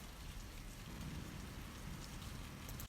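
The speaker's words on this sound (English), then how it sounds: "it's like a random loop of this rain sound that I recorded outside my house." Steady rain from a thunderstorm recorded outside a house, looped into a continuous, even hiss of falling drops with dense low rumble and no distinct breaks, close and fairly loud throughout.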